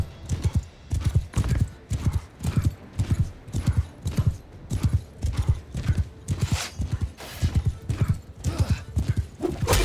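Horse hooves in the medieval battle game Mount & Blade II Bannerlord, a rhythmic, steady clip-clop of a galloping horse, close and prominent, with a faint whinny under the beat.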